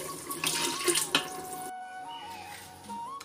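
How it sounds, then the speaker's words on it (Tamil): Water runs from a tap into a cooking pot while a dish with mint and coriander is being made. A steady splashing pour fills the first half, then continues more quietly, with no talk. "தண்ணி ஊற்றுறேன்."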